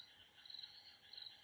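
Frogs croaking in an open field at night, a steady chorus of rapid, faint chirping calls layered with insect-like trills and no voices.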